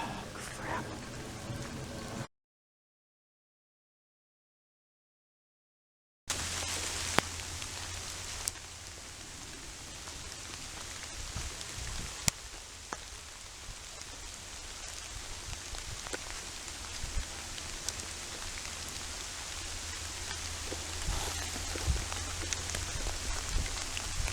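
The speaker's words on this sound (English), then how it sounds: "just listening to the rain fall is amazing" Rain falls outdoors in Minnesota, a steady soft patter with occasional sharper drops, continuing evenly after a brief gap of silence near the start.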